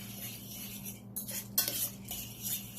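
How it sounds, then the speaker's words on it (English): Callaloo, scallion, thyme and butter stirred in a pot with a metal spoon, scraping and clinking against the pot over a low steady hum, a few sharper knocks, no talking. "And I'm just gonna stir it"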